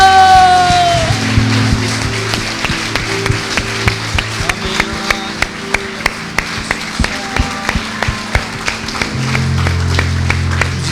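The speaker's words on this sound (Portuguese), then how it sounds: "Você pode aplaudir o Senhor" A church congregation claps hands in steady rhythm during a Sunday worship service, sharp regular beats running throughout over sustained music.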